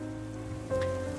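Steady rain falls in a brief, continuous wash of noise that has no distinct drops.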